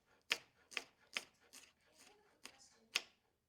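A knife chopping a large jalapeno for pico de gallo on a cutting board, seven crisp, evenly spaced thuds close up in a quiet kitchen.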